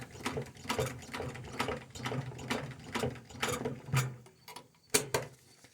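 A sewing machine stitches a leather multitool belt-clip holster, producing a close, rhythmic mechanical chatter in short repeated bursts that slow and stop toward the end.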